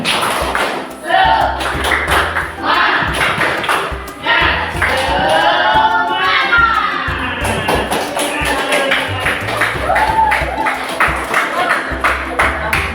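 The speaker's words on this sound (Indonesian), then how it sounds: "Ayo semuanya, tepuk semangat." A class in a classroom claps out the rhythmic spirit clap, tepuk semangat, in sharp patterned bursts of many hands, with children's voices chanting along between and over the claps.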